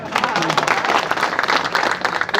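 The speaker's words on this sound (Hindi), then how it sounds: "125 में 26 रंगने के लिए ताली तो बजा दो मेरे को।" A protest crowd of TGT and PGT candidates at a selection board sit-in claps, a loud uneven burst of many hands with scattered sharp claps and murmuring throughout.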